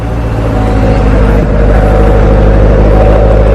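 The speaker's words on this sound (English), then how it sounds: "Rev it up a little bit." A wrecked 2017 Corvette Z06 engine runs loud and close, its pitch rising briefly as it revs.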